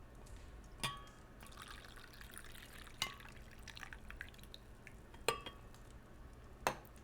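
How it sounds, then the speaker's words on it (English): Tea poured in Disco Elysium, heard as faint trickling liquid and soft drips, broken by a few sharp porcelain clinks spaced a second or two apart in a quiet room. "I was pouring the rest of my tea."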